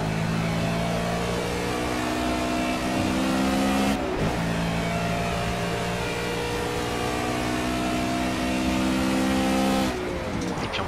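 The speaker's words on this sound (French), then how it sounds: "Ici une McLaren qui passe à l'intérieur" A McLaren GT race car passing on the inside at Silverstone in Project CARS: loud, sustained engine roar with climbing revs and a couple of gear shifts, steady and close with no talk.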